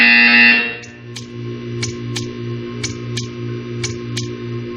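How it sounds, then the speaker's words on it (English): A loud, harsh electronic buzzer in the video game Portal 2 sounds briefly, then gives way to a low electrical hum with regular faint clicking pulses. "You will hear a buzzer."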